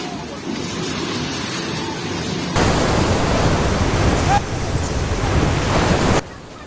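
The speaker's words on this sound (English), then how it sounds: "Cries of grief mingle with the roar of the floodwaters" Floodwaters in Sichuan, China roar continuously, loud and broadband, with surges and shifts in intensity, like a torrent in full flood.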